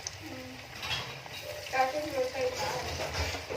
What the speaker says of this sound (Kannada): ಈ ರೀತಿಯಾಗಿ ಒಂದೊಂದನ್ನೇ ಎರಡು ಕಡೆಯೂ ಚೆನ್ನಾಗಿ ಎಣ್ಣೆಯಲ್ಲಿ ಫ್ರೈ ಮಾಡ್ಕೋಬೇಕು.